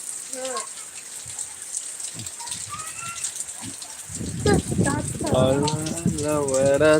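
Rain falls as a soft, steady hiss, sparse at first with scattered drips, then a person starts talking loudly over it partway through.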